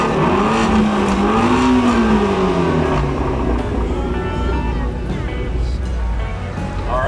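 A powerful car engine revs up and down loudly up close, rising and falling in pitch before settling into a throaty rumble.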